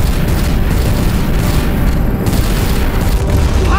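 Weapons fire and explosions in the Guardians of the Galaxy video game against Hala, a dense continuous roar of booms and blasts, loud and unbroken throughout.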